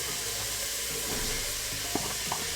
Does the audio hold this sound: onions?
yes